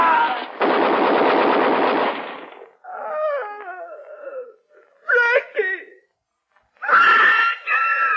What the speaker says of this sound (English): Below there, machine gun.